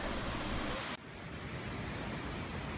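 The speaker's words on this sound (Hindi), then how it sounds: "ये ऊपर से पानी आता है खूब बौछार के साथ, और ये फिर नीचे जा रहा है" Birthi waterfall in Uttarakhand pouring down with heavy spray, a loud dense roar of falling water that drops abruptly in level partway through, then continues as a softer steady rush.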